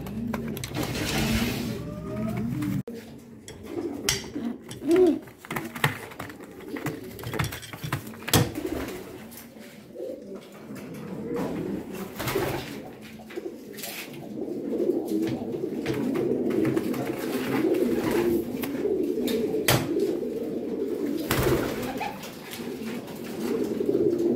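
Stock pigeons cooing in a loft, soft repeated low coos from several birds close by, with scattered clatters and shuffling and no talk.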